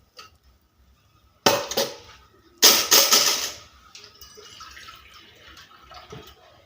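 Water pours in two loud bursts into a metal pan for cooking broken-wheat porridge, each gush splashing and then trailing off into quieter trickling and drips.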